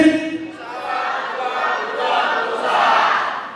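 A crowd at an Indonesian business gathering of HIPMI Ogan Ilir chants the slogan "pejuang pengusaha" in unison, voices blending into three loud swelling phrases with brief dips between them.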